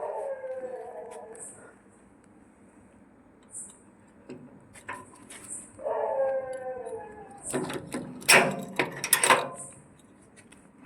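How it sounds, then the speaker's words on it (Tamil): A puppy howls and cries in drawn-out, wavering whines, heard in a couple of separate bouts early on and again around the middle, followed by louder scuffling and clatter near the end, fairly close in a quiet early-morning setting. "கத்துற சத்தம் குட்டி நாய் குட்டியோ ஓடிடுற மாதிரி கேட்குது"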